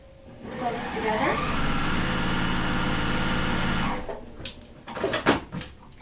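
A sewing machine whirs at a steady, fast hum for about three seconds while stitching quilt fabric pieces for a Court House Steps block, then stops and is followed by soft handling noises and a voice.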